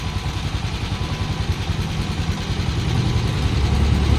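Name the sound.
Honda TMX125 motorcycle engine running after being started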